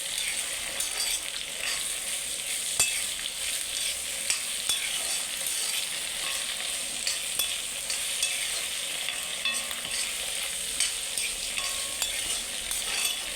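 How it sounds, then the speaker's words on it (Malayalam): Chopped ivy gourd (kovakka) frying in a pan and being stirred, a steady close sizzle with scattered scraping clicks of the spoon throughout, no voices. "അപ്പോൾ നമ്മൾ കോവയ്ക്കയോട് ചേർത്ത് കൊടുത്തിട്ടുണ്ട്. നമുക്ക് നന്നായിട്ടൊന്ന് മിക്സ് ചെയ്ത് കൊടുക്കണം."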